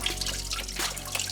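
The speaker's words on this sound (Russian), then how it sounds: "А вот так вот сливается антифриз." Antifreeze drains from a BMW E34 radiator in a steady close trickle of liquid splashing and dribbling, fairly faint, with no talking.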